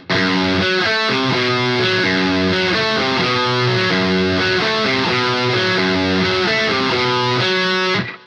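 A distorted electric guitar plays a chugging, repeated pre-chorus riff at a brisk tempo, loud and sustained, then cuts off abruptly.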